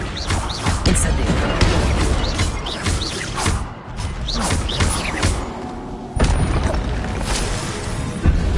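Repeated Incendio fire spells are cast in Hogwarts Legacy, a string of whooshing bursts and thuds layered over busy game sound, with a louder hit near the end.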